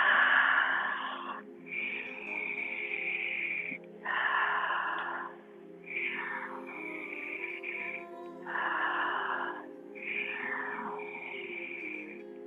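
Slow, deliberate breaths during a yin yoga exercise for the lungs, each long inhale or exhale lasting a couple of seconds with short pauses between, close and fairly loud over a low steady hum.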